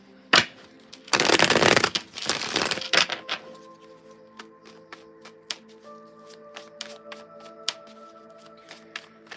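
Tarot cards being shuffled for a reading, two short bursts of close riffling followed by scattered soft taps and clicks as the deck settles, with faint tones lingering behind.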